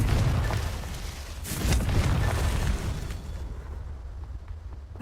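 Confringo blasting spell going off in Hogwarts Legacy, a broad rumbling explosion that swells in the middle and then fades into a lower lingering roar, with no talking.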